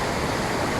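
Strong water gushes from a broken pipe, a loud, steady, hissing rush with no pauses.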